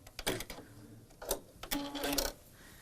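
A sewing machine stitches the last seam of a baby quilt block in short bursts of rapid mechanical whirring separated by brief pauses, close and moderately loud with no talk.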